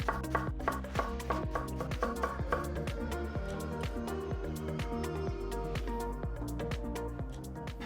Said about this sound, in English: Once it's washed, simply slice it up into 1 centimetre pieces.